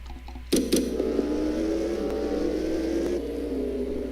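An F1 race car's engine fails in the F1 2017 video game at the Russian Grand Prix: a sharp mechanical bang and rattle, then a sustained droning engine tone that runs for a few seconds before fading.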